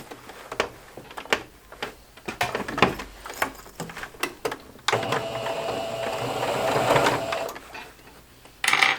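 A sewing machine stitching a seam around fabric for a kitchen plate holder, starting with short ticking bursts of stitches, then a steady continuous run of the motor, close and loud with no talk.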